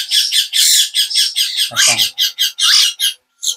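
A myna bird squawks loudly and close up in rapid harsh bursts, nearly continuous for a few seconds with short pauses and a final call.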